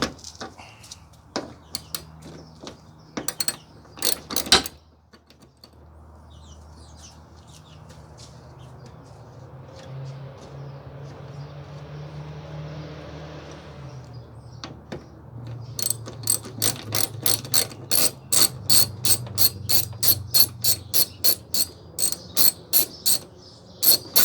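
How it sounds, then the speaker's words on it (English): A ratchet wrench loosens a hood bolt on a 2020-or-later Toyota during a hood strut install, giving bursts of rapid metallic clicks, then a smoother whirring spin-off, followed by a long, steady run of evenly spaced ratchet clicks close by. "now you can go ahead and break this top bolt and take this one all the way off"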